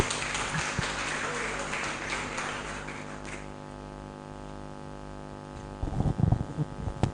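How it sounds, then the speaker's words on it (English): Audience applause at a United Bank for Africa event: broadband clapping fills the first few seconds, fades into a quiet hum with steady tonal buzz, then brief louder bursts of activity return near the end. "Please, let's give him a better round of applause."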